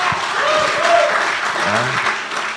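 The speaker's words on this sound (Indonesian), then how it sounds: "Beri tepuk tangan dulu buat Tuhan." Steady applause from a church congregation fills the space, with a faint voice briefly audible underneath.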